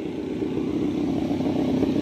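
SR400 motorcycle riding past at a moderate distance, a rough, steady engine rumble with a slight rise in the middle, fairly faint and heard alone.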